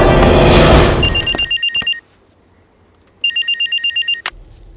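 A telephone in a Bhojpuri film scene rings in two loud bursts of rapid electronic trilling separated by a brief silence, with a sharp click at the end and no voices.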